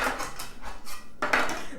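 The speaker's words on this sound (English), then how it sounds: "We have our little cake pans." Small metal cake pans clatter and clank together in a kitchen, several quick close knocks in a short burst with no voices.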